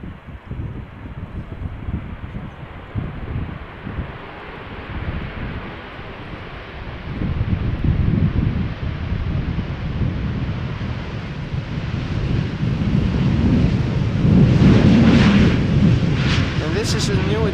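Heavy wind buffets an outdoor microphone at Schiphol Airport, a loud rumbling roar that surges and grows stronger over time, with a voice talking beneath it.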